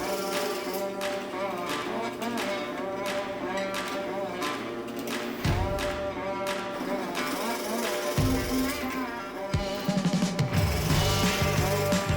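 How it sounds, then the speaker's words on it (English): A power drill whines steadily while boring 3/4 inch dowel holes through a wooden dining table, its pitch dropping and shifting as the bit bites in, over a faint background hum. "These holes are being drilled all the way through to allow for dowels"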